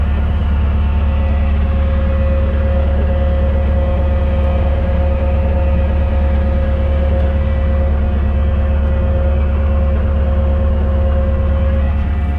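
The engine of a Van's RV-4 light aircraft drones steadily and loudly while it taxis, a dense low rumble with a constant propeller buzz, heard close up from inside the cockpit.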